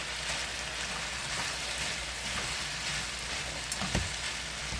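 Potatoes frying in a pan for a sausage breakfast casserole, giving a steady, close sizzle and crackle that holds for several seconds with no talk.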